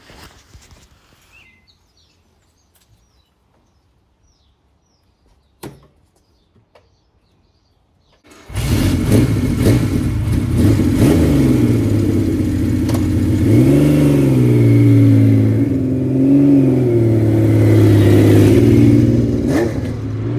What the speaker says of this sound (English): So with the bike weighed, let's go out for a ride.